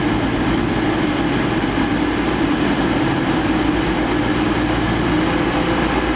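A Meridian passenger train arrives at St Pancras station, rumbling loudly and steadily at close range, a heavy low engine drone with constant mechanical noise and no talking.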